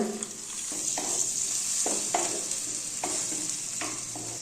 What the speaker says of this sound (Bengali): টমেটো কুচি এবার একটু নেড়ে চেড়ে নিচ্ছি